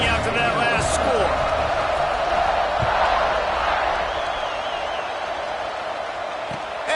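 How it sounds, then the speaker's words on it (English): A stadium crowd buzzes in the college football video game NCAA 25, a loud continuous roar of cheering with a commentator talking over it. "this crowd is buzzing after that last score"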